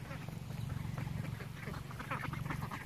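Khaki Campbell ducklings nearly grown quack in a steady, overlapping chatter close by, over a low continuous hum.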